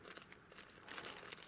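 A plastic bag around an Azone Picco Neemo doll crinkles and rustles close by, a continuous soft crackle with brief sharper crunches, no voices.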